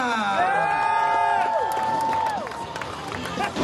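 Crowd cheering and whooping for BMX rider AJ Anaya at a ramp and flatland stunt show, loud and sustained with a long shouted tone over the noise, fading slightly toward the end.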